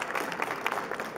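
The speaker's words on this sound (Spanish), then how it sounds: "Le demos un aplauso a esta psicóloga maravillosa." Short burst of audience applause at a gathering for a Colombian writer, with a quick, fairly quiet patter of many hands clapping together.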